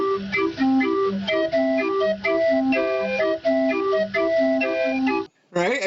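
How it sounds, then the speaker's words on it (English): Old-time calliope, a steam-powered pipe organ of the kind heard on carousels, plays a bright, piping melody over a bouncing oom-pah rhythm, loud and steady, then breaks off abruptly near the end. "I thought I would bring up a little calliope music."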